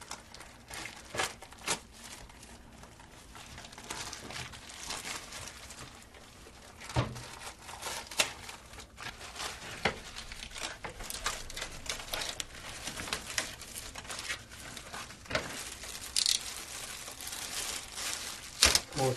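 Plastic sheeting crinkles and rustles as it is unrolled by hand and sliced with a razor knife while a kitchen is prepared for painting, with irregular close crackles and taps continuing throughout.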